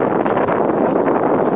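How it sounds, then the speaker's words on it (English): Strong wind on Franconia Ridge buffets the microphone in a continuous, rough roar with no pauses. "But it's still pretty daggone windy."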